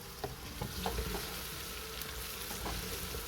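Onions frying in hot oil until light brown for beef nali nihari, a steady low sizzle with occasional stirring clinks, faint and continuous with no talking.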